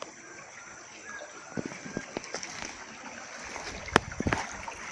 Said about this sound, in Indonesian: Jadi beginilah ini sungai di atas sekarang.